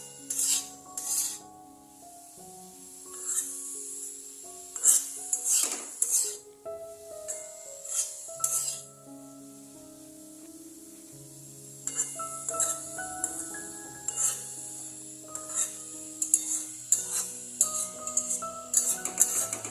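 Grated carrot for carrot halwa being stirred and mixed in a pan, with repeated scraping and clinking of a spoon against metal in irregular bursts, close and fairly clear, no voices.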